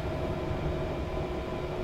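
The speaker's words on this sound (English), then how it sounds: "Elevator going down." An elevator descending in Resident Evil 0, a steady loud mechanical rumble and hum with no breaks, heard alone.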